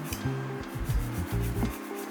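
A nail file rasps with short, close rubbing strokes while it shapes an extended artificial nail tip. The strokes are quiet and repeat in a steady back-and-forth rhythm, with no voices.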